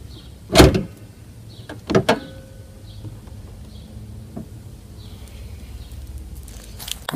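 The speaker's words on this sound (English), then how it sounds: "Set this down, open the hood." The hood of a GMC truck is released and lifted: two sharp, loud metallic clunks a little over a second apart, then quieter faint rattles and shuffling.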